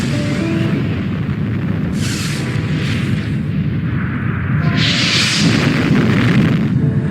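A sound effect for the Little Boy atomic bomb explosion. It is a loud, deep rumbling boom with heavy low-end roar, and bursts of crackling blast noise swell around two seconds and again near five seconds.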